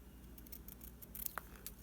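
Paper scissors snip once or twice through craft paper for a decorated never-ending book, quiet and brief against a soft background hiss, with no voices.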